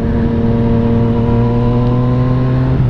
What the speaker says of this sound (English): Kids love the rev bomb.